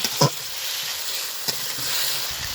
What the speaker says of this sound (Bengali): মশলার সঙ্গে সবজিটা আরও সুন্দর করে কষিয়ে নেব।